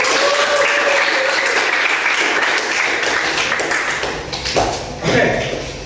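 An audience at a university teacher-education graduation ceremony applauds loudly in a dense, continuous wash of clapping that thins slightly near the end, with a voice briefly audible beneath it.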